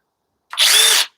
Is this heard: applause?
no